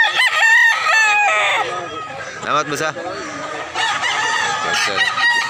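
Roosters crow repeatedly at a busy chicken market in Barili, Cebu, loud and close, with people talking and haggling over prices throughout.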